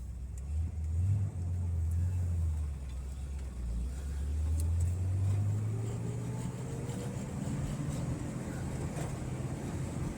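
A 1968 Corvette with a 327 V8 and four-speed revs and accelerates on the road, its deep engine note rising steadily in pitch as it pulls through the gear, loud and close with no talk over it.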